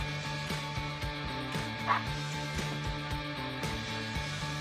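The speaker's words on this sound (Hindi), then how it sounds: "विंगर डगलस कोस्टा अपने कुत्ते के साथ खेल के अपने स्किल्स कर रहे हैं शार्पन।" A dog yips and barks in a steady, repeating rhythm while playing with footballer Douglas Costa, moderately loud throughout with one brief sharper burst partway through.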